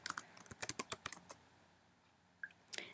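Fingers type commands on a computer keyboard: a dense run of crisp keystrokes, a quiet pause, then a few more keys at the end, close and with no voices.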